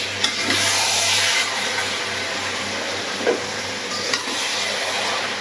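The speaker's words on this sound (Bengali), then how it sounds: "এখন ঢাকনাটা খুলে একটু নাড়াচাড়া করে দিই" Jackfruit curry is stirred in a pan, a broad, steady frying hiss with soft scraping and a couple of faint knocks of the spoon.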